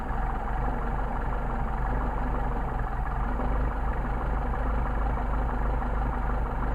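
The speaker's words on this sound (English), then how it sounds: "getting an awful lot of sucking noise here. It's starting to degrade our idle." A Solex carburetor on an idling engine, steady and close, with a continuous low rumble and a broad airy sucking hiss over it, and no voices.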